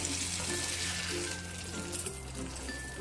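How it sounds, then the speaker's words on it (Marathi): A little malpua batter dropped into hot oil to test the heat makes a faint, close sizzle and bubbling hiss over a low background hum for a few seconds. "बघूया बरं थोडस घालून तर छान गरम झालेलं आहे तेल"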